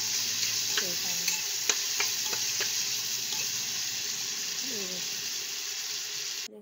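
Onions fry in a pan, browning in hot oil with a steady bright sizzle, while a utensil scrapes and taps against the pan in a few distinct strokes.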